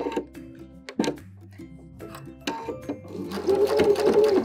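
At the start of a seam, a sewing machine backstitches along an apron's fabric edge in short, close bursts with stops between. It then settles into a longer, steadier whir toward the end.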